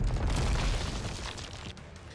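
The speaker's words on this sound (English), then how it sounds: "An explosion rings out at the distance, and the gunshots stop." A distant explosion booms in a video game battle, a deep rumbling blast that fades away over about two seconds with no talk over it.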